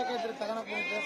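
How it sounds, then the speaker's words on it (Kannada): Sheep at a busy livestock market bleat in a short, wavering, nasal cry that carries over steady crowd noise. "ಯಾಕ್ರಿ ಕರಿಯಪ್ಪ ಇಲ್ಲಿ ದೊಡ್ಡ ಕುರಿ ಕರಿ ಬಂದಿರಲ್ಲ ನೀವು"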